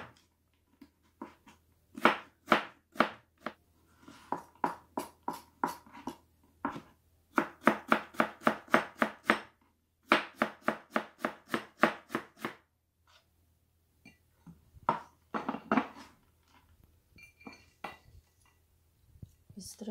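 A knife chops carrots on a cutting board in quick, even bursts of close, crisp knocks separated by short pauses, slowing to scattered single taps at the end.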